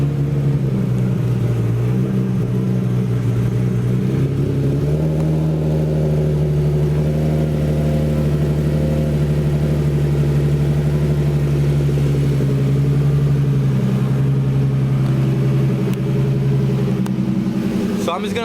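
Nissan Z engine idles steadily and loudly for a long stretch after an Aeromotive 340 fuel pump install, its low hum shifting slightly in pitch partway through.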